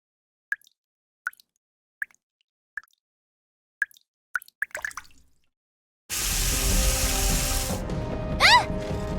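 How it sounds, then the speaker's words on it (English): Water drips from the ceiling in the game NIKKE: Goddess of Victory, a string of distinct plops in a slow uneven rhythm that quickens, then a steady rushing of water takes over. "Water's coming from the ceiling!"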